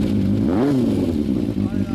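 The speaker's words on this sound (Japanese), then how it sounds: "こっちからエンジン音お願いします。" A 2012 Harley-Davidson Sportster Nightster with a Vance & Hines exhaust gives a low, steady engine rumble with one short rev swell, heard close up under people talking.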